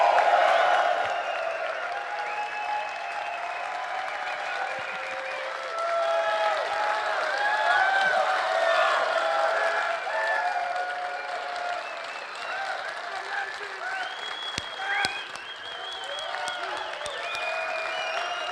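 Sustained applause from a large audience at CitizenCon 2016 as Chris Roberts is introduced, steady and loud for the whole stretch, with a few scattered cheers mixed in.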